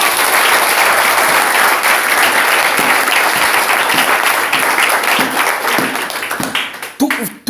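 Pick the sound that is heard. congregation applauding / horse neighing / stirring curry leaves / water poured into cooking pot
congregation applauding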